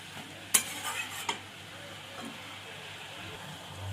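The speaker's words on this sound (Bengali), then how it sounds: "একটু মিশিয়ে নেব নুনটা বাঁধাকপির সঙ্গে।" Salt being stirred into cabbage in a pan: a faint soft sizzle beneath a couple of sharp spoon scrapes and clinks early on, then quiet low stirring.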